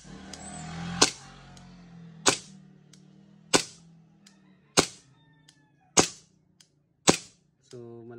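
An airsoft gun running on a weak gas magazine fires six sharp, evenly spaced cracks, each ringing briefly into a quiet room, ending with a short buzzing tone.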